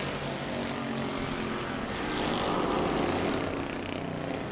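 A race car at the New Smyrna World Series, running down on power and sounding unhealthy, roars past as a broad, continuous engine drone that swells slightly mid-pass and stays loud throughout.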